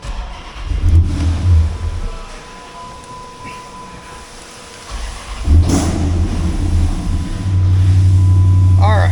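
A 425 hp 6.1-litre SRT8 Hemi V8 car engine idles with a low rumble, goes quiet, then starts up and revs before settling into a steady, deep idle nearby.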